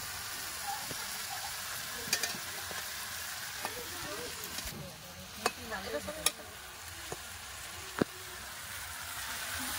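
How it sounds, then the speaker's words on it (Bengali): A rohu fish head goes into a pan of sizzling oil during a home Bengali cooking session, giving a steady broadband fry hiss with a few sharp clinks and stirring knocks throughout. "মাছের মাথা দিয়ে দিয়েছে, দিয়ে একটু চাপা দিয়ে দেবে।"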